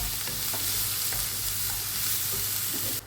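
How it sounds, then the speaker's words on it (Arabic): Mushroom pasta sauce fries in a pan with a loud, constant sizzle and a few soft stirring scrapes, cut off abruptly at the end, with no talking. "نخليه يتقلى قيس 5 دقائق."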